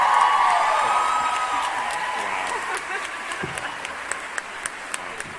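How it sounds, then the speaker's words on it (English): An audience at a 2015 Comic Con Outlander panel applauds and cheers loudly, the clapping thinning out to a few separate claps at the end. "Can we get like a big round of applause for that?"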